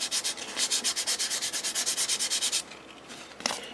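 Sandpaper rubs by hand over curved, uneven wood during refinishing, with brisk rhythmic back-and-forth strokes up close for over two seconds, then a pause and a faint scrape.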